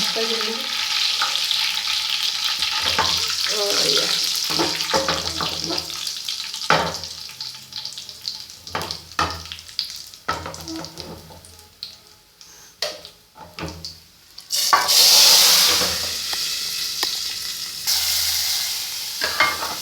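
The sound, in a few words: garlic and curry leaves sizzling in oil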